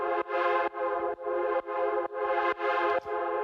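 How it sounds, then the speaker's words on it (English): A plain synthesizer with no arpeggio plays bright, harmonically rich sustained chords in a steady repeating rhythm of about eight evenly spaced hits, each cut off sharply before the next, loud and clean. "so I made like just a simple synth"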